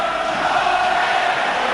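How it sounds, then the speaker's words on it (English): Boxing arena crowd at a British Commonwealth title fight singing and chanting in support of a fighter, a broad sustained roar of massed voices, steady and moderately distant. "Jones is getting the songs of encouragement from his crowd"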